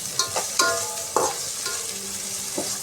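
Tomatoes sautéing in a pan for a fish curry, a steady close sizzle broken by several scraping stirs of a spoon against the pan.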